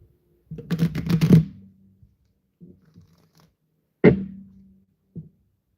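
A deck of playing cards is shuffled by hand, riffling in a quick fluttering burst, followed by softer taps and a second short slap of cards, close and alone.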